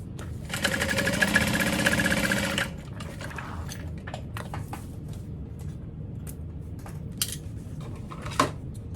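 A sewing machine basting the lining of a barrel bag runs in one close, steady burst of about two seconds, then stops, followed by light handling clicks and rustles.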